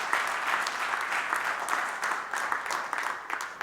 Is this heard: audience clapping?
yes